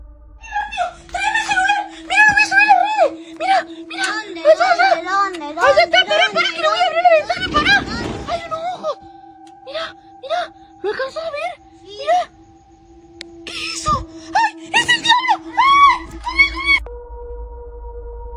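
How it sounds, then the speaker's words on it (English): A woman screams and wails in panic and fear in repeated high, wavering cries, broken by sobbing gasps and a few muffled bumps, with a steady electronic tone running underneath. "she continuously screams in panic and fear before the video eventually ends abruptly"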